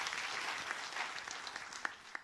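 A crowd applauds a player at an esports finals event, a dense and steady wash of clapping with a few sharper claps standing out near the end. No one speaks over it.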